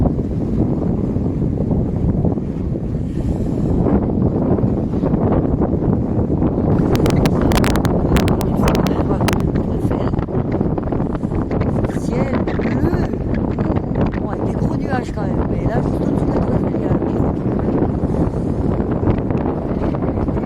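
Strong wind near the Eiffel Tower in Paris buffets the microphone with a constant loud roar and gusty rumble throughout, while someone talks in French over it.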